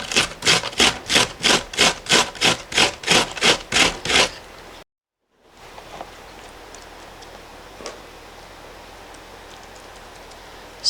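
An onion rubbed against a box grater, about a dozen rhythmic rasping strokes up close, then a short pause and quiet kitchen background.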